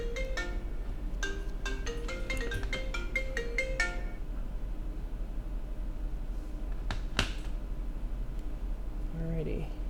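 A phone ringtone plays a quick, bright melodic run of tones for about four seconds, then a single short chime follows, sounding fairly close over steady background noise at a phone repair bench.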